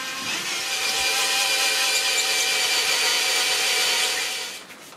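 Cordless drill boring a 10 mm pilot hole into wood, a loud steady high-pitched grinding whir that holds for several seconds before winding down at the end.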